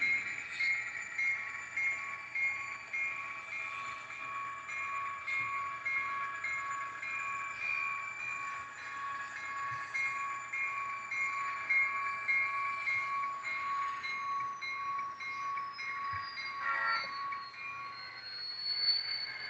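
Scale Trains model locomotive number 582 running on a layout with a steady tonal whine and hum, a pitch shift near the end as it slows toward a stop, alone and at moderate level.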